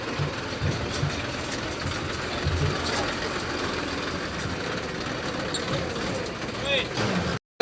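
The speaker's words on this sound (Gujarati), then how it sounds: "ટ્રેક્ટર આવ્યું ને એટલે" A tractor engine runs steadily, a close, continuous low rumble with a broad rattle while hauling a load of wood back from the farm. Voices talk over it.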